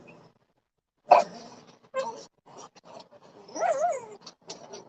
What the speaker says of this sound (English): What an adorable dog.